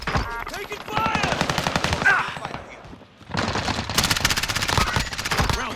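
Heavy machine-gun fire crackles through a Modern Warfare match on Rebirth Island in rapid, loud bursts, dips for a moment, then returns even denser as overlapping streams of shots.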